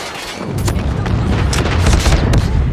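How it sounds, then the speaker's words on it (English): Enemy airstrike explosions in Call of Duty: MW3 thunder loudly, with deep rumbling booms and several sharp blasts layered over continuous low battlefield roar. "Enemy airstrike incoming."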